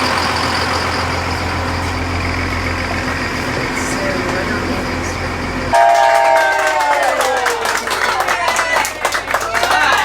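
Hershey trolley rumbling along on a town tour, a steady loud running drone that ends abruptly, followed by a horn blast and chatter as people talk nearby.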